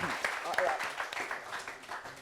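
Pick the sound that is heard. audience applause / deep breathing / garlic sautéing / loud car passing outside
audience applause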